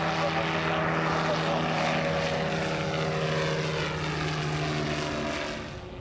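A light aircraft's propeller engine drones loudly and steadily at power during a go-around, then eases off slightly in the final second.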